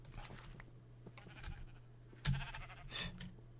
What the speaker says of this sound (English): Come here, sheepies. I need your wool.